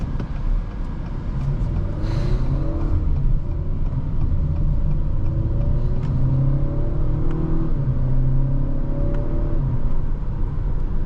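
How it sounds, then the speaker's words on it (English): A 2025 Acura RDX with a turbocharged four-cylinder engine pulls hard from inside the cabin, a loud continuous engine drone rising in pitch through several gears over steady road rumble. "the RDX is pretty quick. The turbo 4-cylinder offers good low-end torque, and the transmission is very responsive."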